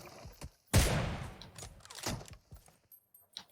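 Gunfire in the mobile battle royale game PUBG Mobile: a loud, sharp burst erupts, followed by several fainter shots and echoing cracks scattered over a few seconds, with no voices.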